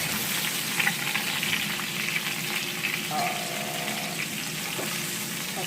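A burger patty frying in a pan in its own plentiful juices, with a steady, close sizzle and crackle running throughout and a faint tonal squeak partway through.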